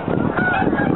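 Geese honk loudly and close by in northern New Jersey, a dense burst of overlapping harsh calls.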